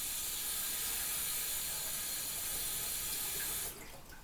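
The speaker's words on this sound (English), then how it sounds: "Add the water." Tap water runs steadily into a kitchen sink, a continuous close hiss that drops off near the end as the flow is cut.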